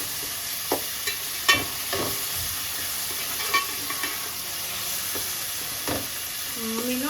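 Tomatoes and onion fry in a pan for a spicy home-cooked mutton curry, giving a steady close sizzle with a few sharp taps and scrapes from stirring.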